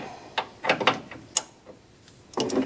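Metal clicks and ratcheting from a 1-1/8 inch wrench and socket tightening a steering rack u-joint on a Steeroids rack and pinion: several short, sharp taps and ratchet bursts, close and moderately loud, with no talking.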